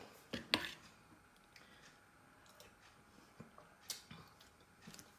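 Soup being stirred in a pot, with faint intermittent clinks and taps of a utensil against the pot spread over a few seconds and quiet background between them.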